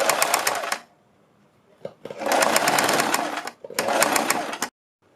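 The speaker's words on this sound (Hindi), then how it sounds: "गले के किनारे से मिलाते हुए बिल्कुल इसी सिलाई के ऊपर हमें सिलाई लगानी है।" A sewing machine stitches a strip along the edge of a kurti neckline in bursts of rapid, steady running, stopping and restarting about three times with short quiet gaps between.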